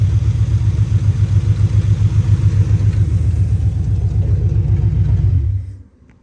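A Chevrolet Monte Carlo SS V8 idles loud and close with a rough, pulsing rumble, throttle blipped steadily, before the engine cuts off and falls silent near the end.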